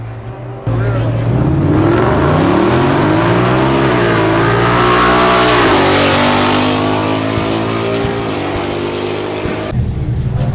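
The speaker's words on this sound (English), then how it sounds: "We're passing right next to the drifters." Loud drift car engines rev hard and rise in pitch with a continuous roar, tires squealing over it, then abruptly dropping away, at a car meet at Atlanta Motor Speedway.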